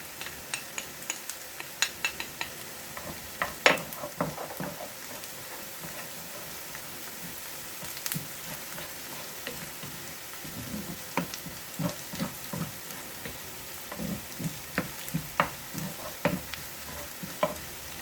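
Ingredients fry in a pan to boost the spiciness of buttered chicken pastel, giving a soft continuous sizzle. Scattered light clicks and scrapes of stirring run throughout, fairly quiet and close, with no talk.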